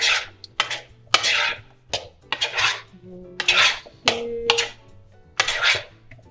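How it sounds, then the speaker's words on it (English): A utensil scrapes and clatters against a pot while food is stirred, producing repeated gritty scraping bursts and metallic clinks in an irregular rhythm, close and fairly loud with no talking. "So I'm just gonna stir this up a bit."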